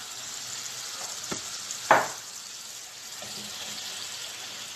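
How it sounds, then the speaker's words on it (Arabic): Marinated chicken frying in a pan gives a steady, moderate sizzling hiss, with a couple of sharp utensil knocks near the middle and no talking. "خلوهم يتقلاونا بيان"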